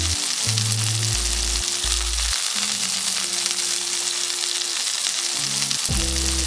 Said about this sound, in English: Baste the salmon with the mixture so that the meat will still be cooked.